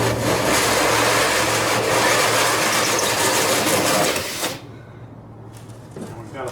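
A hole saw grinds steadily through a trailer wall, a loud continuous whirring and rasping that runs for several seconds and then cuts off into quieter handling noise.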